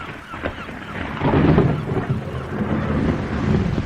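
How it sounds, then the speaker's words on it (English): Thunder from an approaching electric storm at sea rumbles low and continuous, swelling in loudness midway and again toward the end, with a windy, rain-like wash over it. "I'm sure that storm is getting closer."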